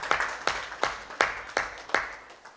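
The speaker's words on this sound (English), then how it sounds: "Please clap for them" A person claps for graduates at a Uganda Sign Language graduation ceremony, six slow, evenly spaced claps, close and clear, with no voices.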